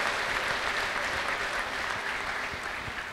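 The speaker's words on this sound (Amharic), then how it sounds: "እንደገና አጨብጭቡ እስቲ ለጌታ ለኢየሱስ ክርስቶስ ክብር" A church congregation applauds in praise during a worship service, a dense, steady wash of clapping that holds across the whole stretch with no clear voices on top.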